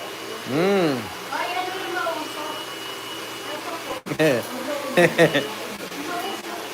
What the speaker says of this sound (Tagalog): Normal lang yun sa blower.